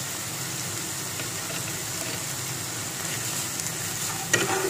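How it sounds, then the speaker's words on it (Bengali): Spices with Kashmiri chili powder frying in a pan for a chicken curry, a steady sizzle with occasional stirring scrapes and a sharper clack near the end, close and alone. "মশলাটা ভালোভাবে কষাতে কষাতে ছেড়ে আসছে।"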